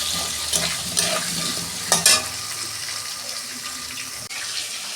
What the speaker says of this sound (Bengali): আলুটা আমি 2 মিনিট ভেজে নেব।